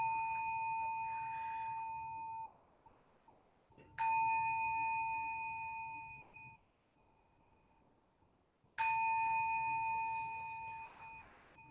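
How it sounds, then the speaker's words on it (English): Meditation bells struck three times at the start of chanting vows during a Zen dharma service, each ring a clear sustained tone that decays over a couple of seconds, with quiet gaps between strikes. "We start with 3 bells"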